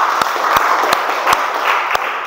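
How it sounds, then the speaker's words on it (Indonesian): Classroom applause for a student group after their presentation: a dense, steady patter of many hands clapping across the room, with a few sharper, louder claps standing out at irregular moments. "Oke, tepuk tangan untuk kelompok 3."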